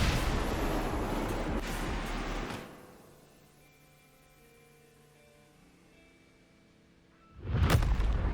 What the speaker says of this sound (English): What caused the explosion?